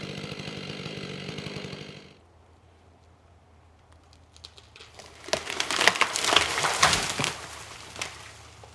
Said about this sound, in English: let's sit here and watch him fell this other big tree